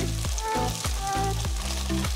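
Chopped shallots fry loudly in a hot pan for kung pao chicken, a steady close sizzle broken by repeated rhythmic scrapes of a spatula, with no one talking.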